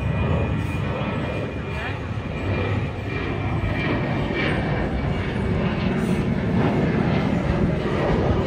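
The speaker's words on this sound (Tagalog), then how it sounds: "may kaka-take off lang po na aeroplano" An airplane taking off near a beach on Senaga Island roars as a loud, steady low rumble throughout, with people talking over it.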